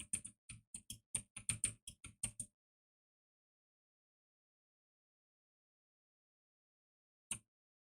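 Quick typing taps on a phone screen form a rapid run of crisp, close clicks for about two seconds, then silence, then one last isolated tap.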